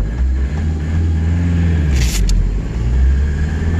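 A 1996 VW Passat B4 with a 1.9 TDI diesel engine runs at wide open throttle, a steady loud low rumble heard up close, with a brief hiss partway through.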